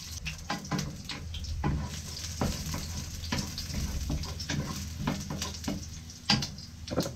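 Garlic dropped into hot oil crackles and sizzles close by, with irregular pops and stirring clatter throughout.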